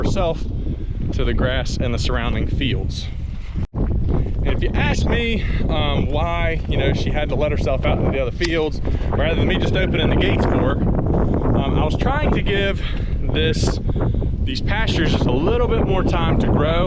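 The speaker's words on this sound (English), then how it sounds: "Sorry about the wind." Outdoor wind buffets the microphone in steady gusts beside open pastures and fields, rumbling continuously under a person talking throughout.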